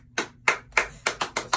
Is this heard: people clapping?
yes